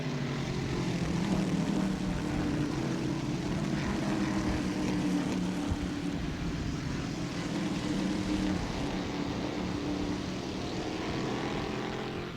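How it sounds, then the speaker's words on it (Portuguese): Stock car racing engines accelerate on the Campo Grande, MS circuit during a 2003 Stock Classics round. A loud, continuous droning roar holds steady for the whole stretch. "O tricampeão Chico Serra acelerando aqui em Campo Grande"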